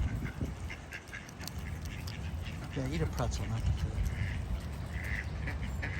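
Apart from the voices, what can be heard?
pet goose honking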